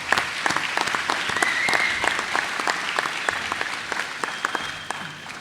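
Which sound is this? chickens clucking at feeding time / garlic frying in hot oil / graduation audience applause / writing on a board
graduation audience applause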